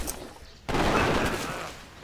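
Cannon units coming under attack in Civilization 5's American Civil War scenario: a sudden loud burst of gunfire and explosions that erupts and rumbles on for over a second.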